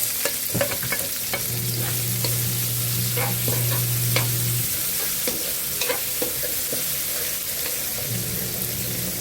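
Onion sautéing in hot cooking oil with ground pork for a chayote dish, a steady close sizzle with frequent stirring scrapes and clinks throughout, no talk.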